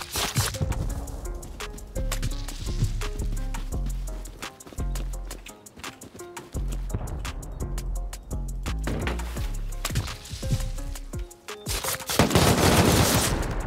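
Dense video-game gunfire pounds away during a raid on an armored base, continuous rapid machine-gun bursts and heavy shots layered with loud booming impacts, close and relentless throughout with no talking.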